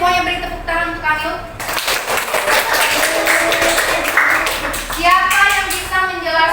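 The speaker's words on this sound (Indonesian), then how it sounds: "semuanya beri tepuk tangan untuk Kamil" A classroom of students claps for a classmate named Kamil, a short burst of scattered applause close by, framed by a teacher's voice talking before and after it.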